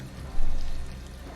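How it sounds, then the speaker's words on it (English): Water pouring from a fountain into bottles in the video game Fallout 4, a short splashing gush that swells briefly over a steady low hum, then fades back. "we'll fill some water bottles because no doubt we'll need them"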